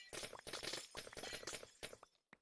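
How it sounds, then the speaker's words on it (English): Glass blocks shattering in Minecraft, a string of crisp, crackling breaks in quick bursts with short gaps between them, loud and close, ending in one last brief crash. "You love the sound of glass breaking."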